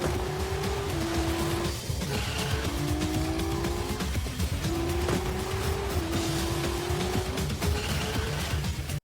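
Racing car engines from a video game trailer, featuring a Porsche, whine and shift up through gears in repeated rising sweeps, with tire squeals and skids over a loud, continuous mix.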